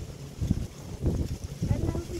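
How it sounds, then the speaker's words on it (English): Gusty wind buffeting a microphone outdoors, low rumbling bursts rising and falling in waves. "It's starting to get windy out."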